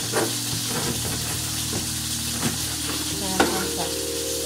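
Chicken thighs in a sukiyaki-style sauce are stirred in a wok, a steady low sizzle under a faint hum with occasional scraping knocks of the utensil.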